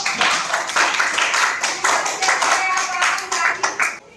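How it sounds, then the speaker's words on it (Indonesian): A classroom group of teachers in training claps for all the presenting groups, a fairly close, moderately sized round of hand claps with distinct individual slaps and some voices mixed in. "Tepuk tangan dulu untuk semua kelompok."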